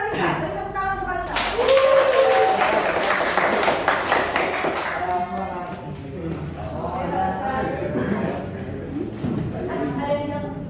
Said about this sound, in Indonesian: Beri tepuk tangan untuk Kalisa.